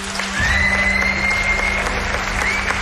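An audience bursts into sustained applause at an evening event, many hands clapping together in a loud, dense wash that swells early and holds steady to the end, with a faint whistle-like tone drifting over it.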